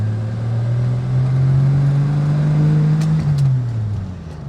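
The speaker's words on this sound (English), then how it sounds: "the roar of that engine, the responsiveness of it" The engine of a Rover P4 110 classic British car drones steadily and loudly from close by, holding a low even tone that rises slightly and then drops away near the end, with no voices.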